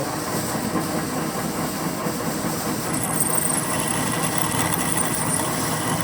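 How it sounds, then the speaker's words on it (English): A steady mechanical whirring and grinding of a blunt drill running in a machine shop at 712 RPM, drilling out 23.5 mm, continuous and fairly loud with no pauses. "And it looks like this drill's a bit blunt."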